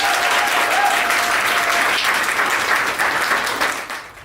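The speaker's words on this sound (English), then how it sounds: "let's give a hand clap for Anita Collier" Sustained applause from a live audience greeting a speaker at a business training talk, steady and full for about four seconds before tapering off at the end.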